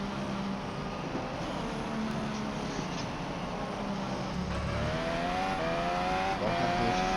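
Formula 1 car on a qualifying lap at the Spanish Grand Prix, its high-pitched engine screaming close by, with rising and falling revs through gear changes and corners and a sharp climb as it accelerates.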